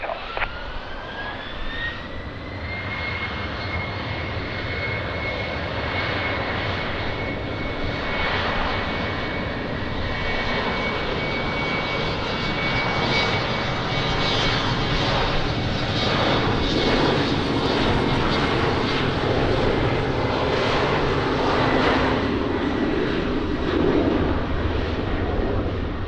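Airliner taking off from runway 20 at Lisbon Airport, a sustained loud jet engine roar with a rising whine that builds steadily and holds for the whole stretch, no voices.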